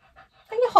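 Dog panting close by, a few soft quick breaths followed by louder rapid huffing and a faint whimper, all within under a second.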